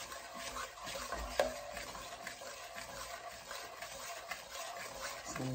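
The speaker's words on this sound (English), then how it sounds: "So I'm gonna stir." A spoon stirs pecan candy mixture in a pot over a medium-high flame, producing a steady scraping swish over a soft bubbling sizzle, continuous and close, with no talking.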